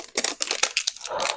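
Perfume packaging is unwrapped in a close, crisp burst of crinkling and rustling, with rapid irregular crackles over about a second and a half and no talking.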